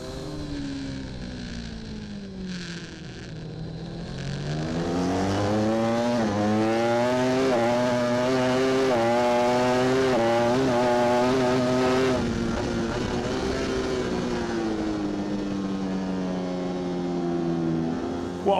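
Onboard engine of a British Superbike racing motorcycle at Knockhill in wet conditions, loud and close, revving up through the gears with rising whine, holding high revs, then dipping and climbing again over a long stretch, no voices.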